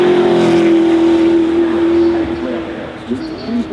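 Bugatti Jesco Absolute hypercar with an 8-litre quad-turbo W16 engine at full throttle, a loud sustained high engine tone close by that fades near the end, with a voice talking over it.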